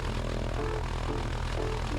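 A Pacer floatplane's propeller engine drones during takeoff from a lake, a steady low rumbling hum with a faint wavering whine riding over it, heard from inside and moderately loud throughout.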